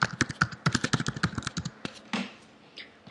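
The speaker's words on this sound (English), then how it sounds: "type in your user details and password" Rapid keystrokes on a computer keyboard as user details and a password are entered, a close burst of irregular clicks that thins out into a few scattered taps toward the end.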